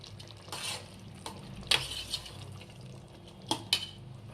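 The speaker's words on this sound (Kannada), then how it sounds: "ಇವಾಗ ಇದನ್ನು ಫುಲ್ಲು ತಿರ್ಸ್ಕೊಬೇಕು. ಈ ಥರ ನೀಟಾಗಿ ತಿರ್ಸ್ಕೋಬೇಕು" Biryani masala stirred in a pot for Ambur biryani, with a few intermittent scraping and clinking strokes of a spoon against metal over a quiet background.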